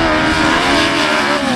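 Super Saloon autograss race cars circling a dirt track, a continuous loud engine drone with layered revving tones from several cars racing together, no voices over it.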